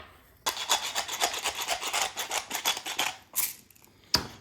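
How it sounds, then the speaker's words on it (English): Hands rub seasoning onto pork steaks, a steady run of close, rasping strokes in quick rhythm, then a pause and a couple of final scrapes, no talking. "Get a really good rub all the way around."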